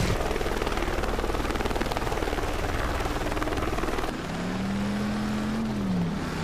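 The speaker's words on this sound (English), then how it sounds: "assist officers under fire from a goddamn news chopper" A news helicopter in the driving video game Driver: San Francisco thumps overhead with a loud, steady rotor chop, then drops back as a rising and falling engine whine takes over.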